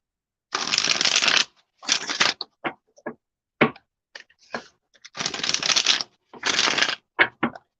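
Triple Goddess Tarot cards being shuffled close up, loud riffling bursts of about a second each alternating with short taps and snaps as the deck is squared, no talking.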